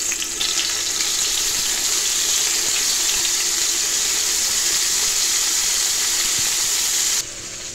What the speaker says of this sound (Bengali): এখন একটু ভাজা নেব হালকা করে